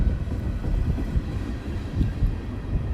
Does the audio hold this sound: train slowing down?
yes